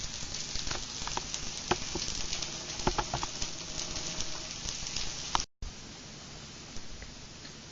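Purple potatoes fry in a pan for an Italian egg dish, giving a continuous dense sizzle with crackles and pops at a steady moderate level, with one brief dropout near the end.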